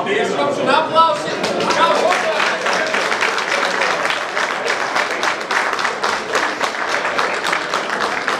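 A crowd claps steadily for several seconds at a Latvian Trophy Raid Championship awards ceremony, dense applause with some cheering voices mixed in at the start.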